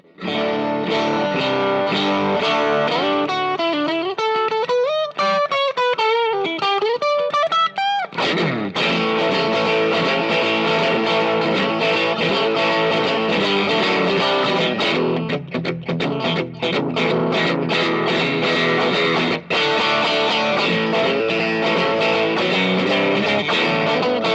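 Eart Strat-style electric guitar with middle and bridge pickups, played loud and overdriven with sustained chords and bending lead lines, continuous and without any talking.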